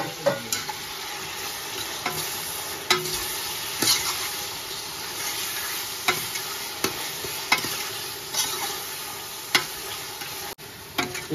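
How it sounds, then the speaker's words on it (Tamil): Tomatoes frying in a pot for mutton biryani, stirred repeatedly, with steady sizzling and regular scraping strokes of the spoon, close and fairly loud, with no talk. "தக்காளி போட்டாச்சு. கிண்டி கிண்டி கிண்டி."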